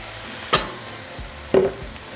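Ground beef cooking in a pan while being mixed, a low steady sizzle broken by two distinct spatula knocks about a second apart.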